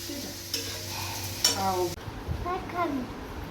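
Bora fritters fry in hot oil in a home kitchen, with soft sizzling, scraping and stirring clatter and a sharp clink. A voice speaks briefly near the end.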